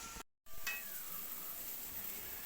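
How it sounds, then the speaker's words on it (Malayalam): Tomatoes sauté in a pan for pork curry with a soft, steady sizzle. A brief dropout near the start is followed by a light clink, then continuous frying. "തക്കാളി ഒന്ന് നല്ല പോലെ ഒന്ന് വഴണ്ട് കിട്ടട്ടെ"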